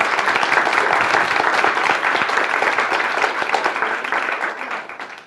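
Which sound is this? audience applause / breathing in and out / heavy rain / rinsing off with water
audience applause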